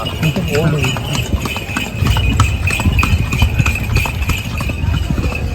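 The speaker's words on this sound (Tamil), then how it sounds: "டொக்கடி டொக்கடி டொக்கடி டொக்கடி குதிரை வண்டியில் பேசிட்டு இருக்கோம்" Rhythmic hoof clip-clops of a horse pulling a cart, steady and close, under continuous talking, on a temple trip in Palani, India.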